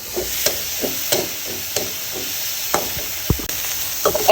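Chillies frying in a pan for a spicy Barishal-style chilli mash, a loud close sizzle broken by repeated stirring scrapes and a few sharp knocks of the utensil against the pan.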